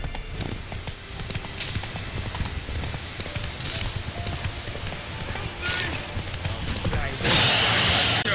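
Geralt's horse Roach gallops in The Witcher 3: Wild Hunt, a steady rapid clip-clop of hooves running throughout, with a brief whinny-like burst near the end over game ambience.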